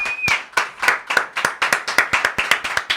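Live audience at a podcast recording claps in a steady, strong burst of applause, sharp hand claps repeating rhythmically and close, with no voices over it.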